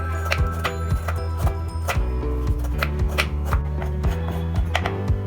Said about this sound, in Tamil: நான் கத்தி வச்சு இந்த மாதிரி கட் பண்ணி எடுத்து வச்சுக்கிறேன்.